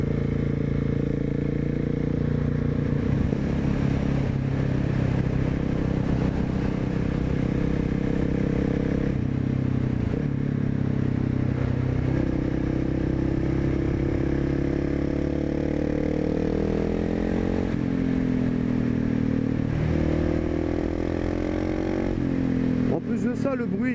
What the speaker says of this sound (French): Ça, le bruit il est intéressant quand ça monte dans les tours